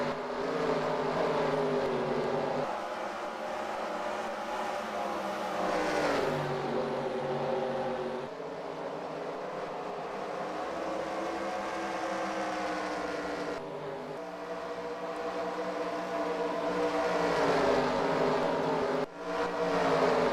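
Racing car engines whine and roar continuously, rising and falling in pitch as they speed past, loud and layered like a video game race.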